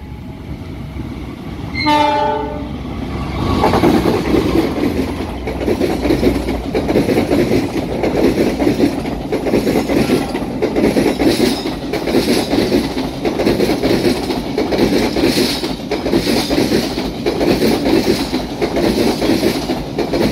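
The Mataram passenger train, running Solo to Pasar Senen, sounds a short stepped horn blast near Lempuyangan, then rumbles past loudly and close with a continuous clatter of wheels on rails.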